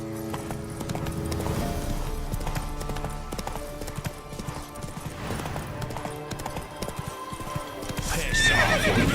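The horse Roach gallops in The Witcher 3, a steady rapid clip-clop of hooves with a low rumble beneath, loud and close, and a brief neigh near the end.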